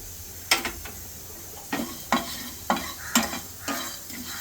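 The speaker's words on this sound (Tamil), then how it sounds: "வறுத்துட்டு இருக்கும்போது உளுத்தம்பருப்பு போட்டுக்கலாம்." Urad dal dry roasting in a pan is stirred in repeated scraping strokes, each a short rattling scrape over a faint background hiss, about six or seven in quick, uneven succession.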